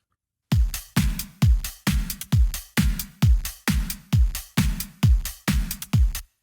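A punchy pop drum loop from the UJam Beatmaker Candy plugin plays alone, with heavy kicks and snappy hits repeating in an even, driving rhythm.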